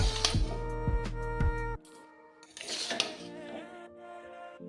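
Chicken chowmein being tossed with spices in a pan, with metal utensils clanking against the pan in quick scraping bursts, then quieter stirring and a few light clinks.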